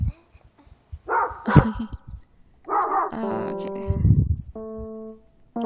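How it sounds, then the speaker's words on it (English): A dog barks a few times, from either a neighbour or a video game about a family legacy. The short, sharp barks are spaced apart and mixed with electronic game tones, and one brief spoken word is heard. "because I just heard a dog barking"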